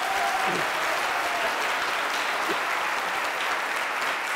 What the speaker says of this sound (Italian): un applauso al governo Meloni.